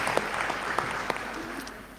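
Applause from a municipal council meeting audience for an absent council member, a steady crowd of many hands clapping at moderate distance for about two seconds.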